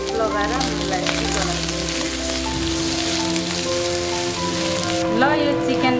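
Chicken coated in ginger garlic paste fries in a pan with a steady, close, crackling sizzle that continues without a break over a tonal background hum.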